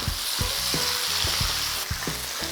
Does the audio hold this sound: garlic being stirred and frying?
yes